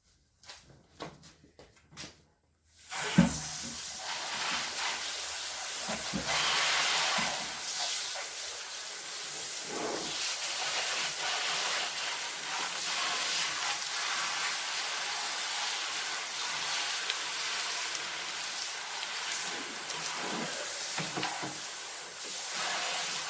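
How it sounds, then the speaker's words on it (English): Water hisses steadily from a sprayer onto a freshly plucked chicken, a close, continuous broadband rush lasting about twenty seconds after a few brief handling knocks at the start, with no talking. "let me spray this chicken off one more time"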